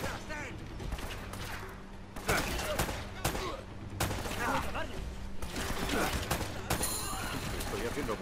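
Gunfire from the video game Uncharted: Drake's Fortune on PS4, bursts of shots and rattling fire recurring across the clip over a continuous game soundscape, with someone talking throughout.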